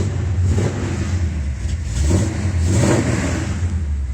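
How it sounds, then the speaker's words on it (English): A 1974 Jeep CJ5 with a built 304 V8 engine runs close and loud, a deep rumbling idle swelling into a couple of revs around the middle before settling back to a steady throb. "I'm going to start it up real quick"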